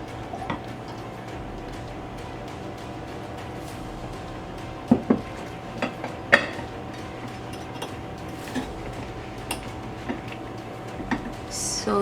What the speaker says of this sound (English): I'll transfer my oil into my jar